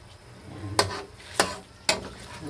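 A utensil scrapes three times through tilapia in a pan of watery ketchup sauce, with short, evenly spaced strokes over a soft background simmer.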